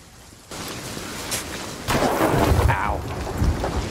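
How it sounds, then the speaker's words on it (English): Lightning strike and thunder in the pirate video game Sea of Thieves, a sudden loud crack and rumbling boom that rises partway through over a steady stormy wash of rain and sea, heard without talk. "I got hit by lightning, I think."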